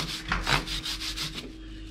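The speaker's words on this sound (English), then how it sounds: "get the brush out and literally just go from side to side on the chain" A brush scrubs side to side across a motorbike chain in quick, rhythmic back-and-forth strokes, close and fairly soft, with no talking.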